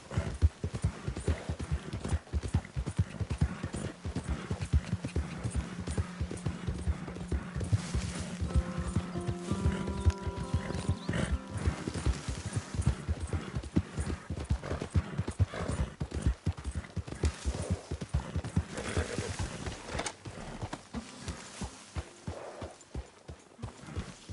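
In the video game Red Dead, a horse's hooves clip-clop in a steady, continuous gait for over twenty seconds, and a whinny rises briefly partway through. The hoofbeats stay close and even before thinning out near the end.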